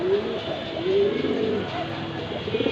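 A pair of silver pigeons coo repeatedly in low, rolling, overlapping calls, close by and steady against a light background hum.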